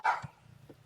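A dog gives one short, loud bark, followed by a couple of fainter yips or whines in a quiet room.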